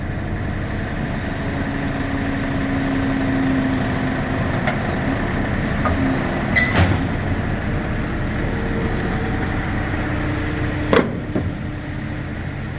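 A forklift with bent forks, used to move a plasma table, runs its engine at a steady, continuous idle, with a couple of brief metallic clunks on top.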